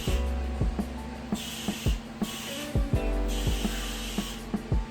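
Hair spray is sprayed onto a wig at close range in two sustained hissing bursts, with sharp clicks and taps in between.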